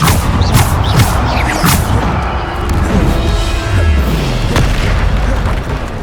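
Bombarda explosion spells in Hogwarts Legacy burst repeatedly, loud booming blasts and crashes layered over a dense, continuous game combat din.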